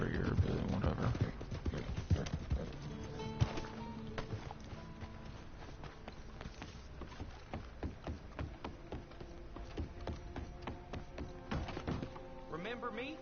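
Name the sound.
horse galloping in video game Red Dead Online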